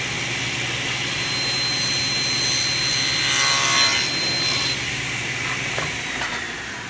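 A woodworking saw cuts through wood in one continuous, loud rasping pass that swells slightly midway, with no one talking.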